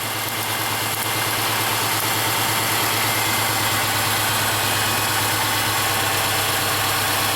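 Subaru engine idling steadily with its purge valve unplugged, a continuous close mid-range hum with a low droning undertone and faint mechanical vibration, no voices.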